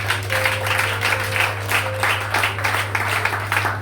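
A church congregation applauds with a steady, dense wash of clapping that lasts the full few seconds. A low constant hum and a faint held tone run beneath it.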